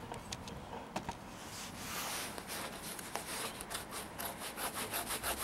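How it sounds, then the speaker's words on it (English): A Schrade SCHF24 knife scrapes fatwood in quiet, close, rasping strokes, the scraping growing into a quick rhythmic series of short rubs toward the end. "It's almost like it scrapes better on the pulling up than it does on the pulling back."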